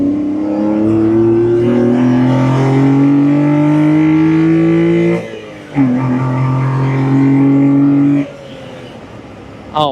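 Honda Beat engine fitted with an HKS intake filter revving hard and loud up close, rising in pitch through long pulls, dropping briefly, then climbing again before cutting off.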